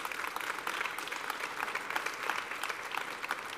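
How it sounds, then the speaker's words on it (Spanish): An audience at a round-table panel on the digital talent market gives sustained applause, a dense even patter of many hands clapping at moderate distance with no speech over it. "Vamos a aplaudir."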